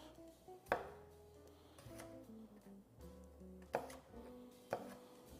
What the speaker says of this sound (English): This is probably the most time-consuming part, is actually chopping the potatoes.